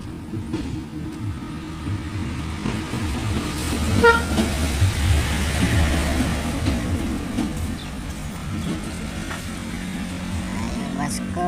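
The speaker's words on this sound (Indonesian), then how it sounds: "Dam truk." A dump truck works at a riverbank on a southern coastline, where a pickup has plunged into the water: a continuous engine rumble with a short horn toot midway, and people talking in the background.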